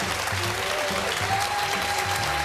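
A live crowd in Times Square applauding, a dense steady wash of clapping and cheering that fills the whole stretch at moderate level, with no voices on top.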